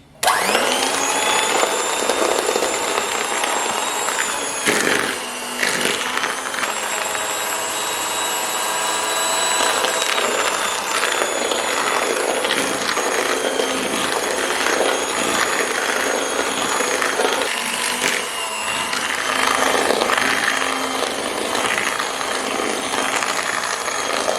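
An electric mixer beats chocolate cake batter with a loud continuous whirring drone, its pitch wavering slightly as the beaters move through the bowl, close and unbroken throughout.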